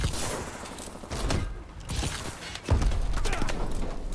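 Gunfire in Call of Duty Advanced Warfare multiplayer comes as loud, chaotic bursts and thumps with a heavy impact near the end, packed into a crowded, noisy mix.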